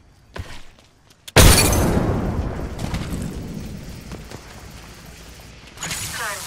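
A frag grenade is thrown and explodes in the Apex Legends video game: faint clicks give way to a sudden loud blast with a long, rumbling decay, then a fresh burst of noise near the end.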